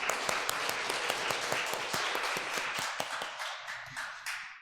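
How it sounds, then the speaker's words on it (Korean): A church congregation applauding during a Sunday morning service, a dense run of clapping with sharp individual claps, steady and fairly loud, then tapering off near the end. "박수해 주세요."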